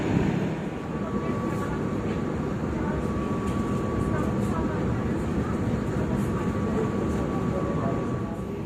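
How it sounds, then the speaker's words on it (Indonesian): Jayabaya passenger train pulling out of Lawang station in Indonesia, a steady loud rumble of wheels and carriages with a faint high tone running throughout. "Ini kereta api Jayabaya meninggalkan stasiun Lawang."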